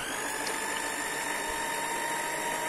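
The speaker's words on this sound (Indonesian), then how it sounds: "Terus kita mixer dengan kecepatan tinggi." An electric mixer beats steamed tiramisu cake batter at high speed, a steady close whine with a buzzing drone that holds unbroken throughout.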